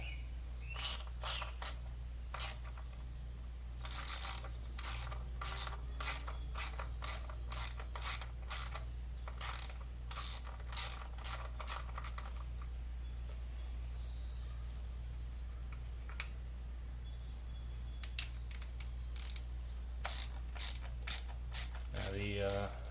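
A ratchet clicks in quick bursts while loosening the wiring harness stays on an Eclipse engine, close up with pauses between runs over a constant low hum.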